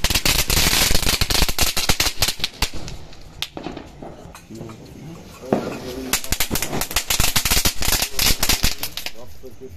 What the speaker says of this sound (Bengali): এই দেখো আমার বর কিন্তু শুরু করে দিয়েছে বাজি ফোটানো